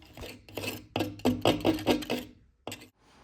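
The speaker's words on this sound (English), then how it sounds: "Basically, I'm just using the steel wool to scrub the inside." Steel wool rubbed with Bar Keepers Friend over a cabinet surface gives a series of short, quiet rasping scrubs in a quick rhythm, followed by one last stroke after a brief pause.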